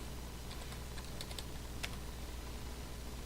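Someone typing a login on a computer keyboard to reach a Raspberry Pi, a short run of soft, close key clicks over a steady background hiss.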